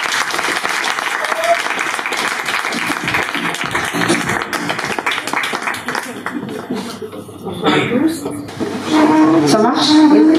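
Audience applauds as the first speaker is welcomed at an evening public talk about prison life, a dense sustained clapping for about eight seconds before a voice begins speaking near the end.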